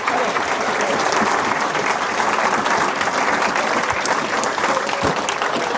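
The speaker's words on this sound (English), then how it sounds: "Big round of applause for the duo, ladies and gentlemen." An audience at a football academy awards ceremony for Mansfield Town gives a loud, sustained round of applause, an even wash of clapping with no speech over it.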